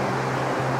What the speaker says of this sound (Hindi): आपको दोस्तों जो है भाई नदी की आवाज़ भी सुनाई दे रही होगी